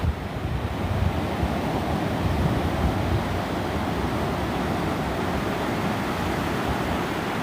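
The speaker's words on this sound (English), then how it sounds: "let's just stare out to the ocean for a bit." Ocean waves break on the shore in a dense, steady roar mixed with wind noise, loud and continuous with no voices.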